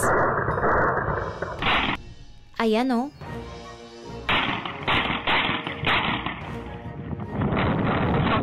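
A chaotic mix of voices with sharp bursts of gunfire in between, loud and close, during a police shooting of a suspect in Albuquerque.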